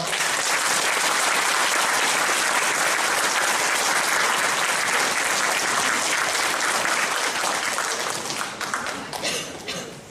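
Audience applause after a workplace lecture on art teaching methods for smart devices and social media, a thick sustained roar of many hands clapping for about nine seconds before thinning out at the end.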